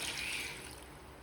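Water pours into rice for a Seeraga Samba mutton biryani, a soft, steady hiss heard up close that eases off as the pour finishes.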